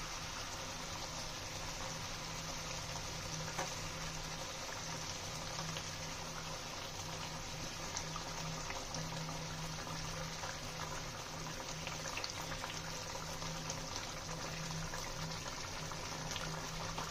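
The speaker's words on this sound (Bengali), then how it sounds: "ঝোলটা ফুটে গিয়েছে, বড়াগুলো দিয়ে দেবো।" Broth for banana stem fritters bubbles at a steady boil in a pot, a soft continuous simmering hiss with faint gas-burner hum beneath, no talking.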